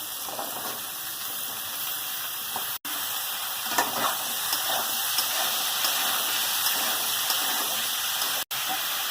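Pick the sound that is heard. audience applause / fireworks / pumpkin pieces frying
pumpkin pieces frying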